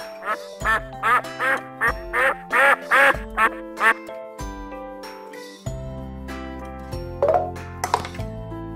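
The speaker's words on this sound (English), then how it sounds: "Duck." A toy animal puzzle gives out a string of loud, nasal electronic duck quacks in a fast rhythm, followed by tinkling chimes and a short jingly melody.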